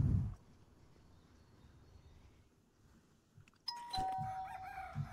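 A doorbell chime rings out in the Content Warning video game, arriving abruptly near the end after a long quiet stretch, a short clear tone over some low background noise.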